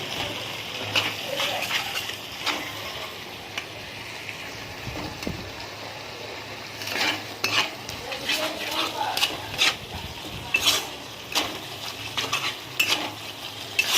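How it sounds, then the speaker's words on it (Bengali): A spatula stirring fish curry in a pan, giving repeated scraping and clinking strokes over a soft sizzle, close and moderate in level, with a voice talking over parts of it. "এবার খুন্তি দিয়ে ভালো করে নাড়িয়ে নাড়িয়ে নেব, যাতে নিচে না লেগে যায়।"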